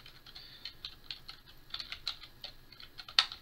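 Light, quick key presses on a SteelSeries Apex 100 keyboard patter in an uneven run, close but quiet, ending with one sharper click.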